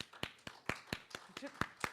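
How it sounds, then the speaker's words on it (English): Sharp claps ring out in a church Sunday service, around ten distinct hand strikes in an uneven rhythm over two seconds, fairly quiet and close, with a voice briefly mixed in. "give yourself a round of applause for helping out every Sunday"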